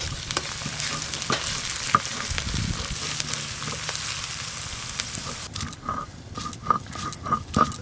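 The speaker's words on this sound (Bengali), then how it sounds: "প্রথমেই দেব পেঁয়াজ কুচি," Chopped onion frying in hot oil in a pan, a steady sizzle with spoon stirring and scraping, then a few sharper clinks near the end.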